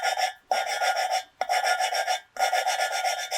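Valves being lapped on a Volvo B230 cylinder head, a steady gritty rasping in four back-and-forth strokes with short pauses between them. It is close and fairly quiet, with no voices.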